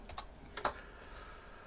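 Typing ipconfig on a computer keyboard at a command line: a few quiet, quick key clicks near the start with one sharper tap, then a faint steady background hum.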